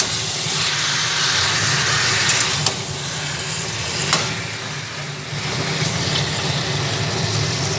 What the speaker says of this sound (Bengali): একসঙ্গে সব দিয়ে ভাজা হচ্ছে